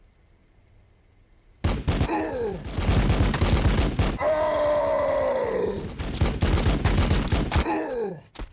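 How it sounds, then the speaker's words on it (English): An Assault Cannon in a Warhammer 40,000 battle fires long, loud bursts of rapid gunfire with whining spin-up tones between volleys, close and dominant, and a voice briefly exclaims. "we're just going to open up with the Assault Cannon here."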